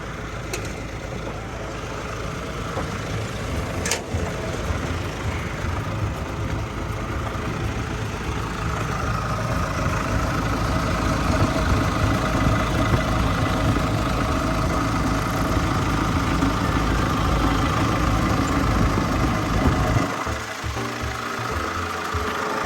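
A Hitachi ZX210LCK-3 20-ton excavator's diesel engine idles steadily and loudly throughout, a low rumbling drone with rhythmic knocking, dropping in pitch briefly near the end.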